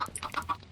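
Several chickens clucking in Minecraft, a quick, busy burst of short overlapping clucks under one second, close and fairly quiet, with no talking.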